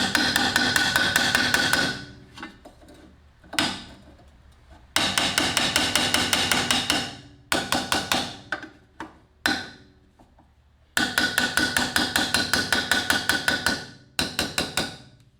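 A hammer bangs dents out of a metal part from a 1974 Honda CT70 motorcycle: loud, ringing metallic strikes in rapid bursts of many blows, separated by short pauses, close up with no speech.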